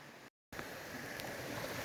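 Steady broadband rush of water pouring through rock flumes on the Hubbard River, a continuous even wash with a brief dropout near the start.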